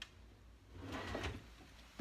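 A kitchen drawer slides open in a home kitchen during herb butter preparation, a brief soft rumbling scrape followed by a small knock at the end, fairly quiet and without talk.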